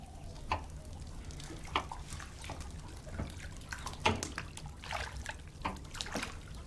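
Hot water is poured and splashed for washing, producing a faint, steady trickle broken by soft drips and splatters, with no one talking.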